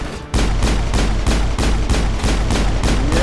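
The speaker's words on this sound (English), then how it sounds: "Garrus, I was shooting him." Rapid automatic gunfire from the Mass Effect video game during an assault on Saren, a loud sustained burst of shots in a steady rhythm of roughly six per second, close and dominant with no talk.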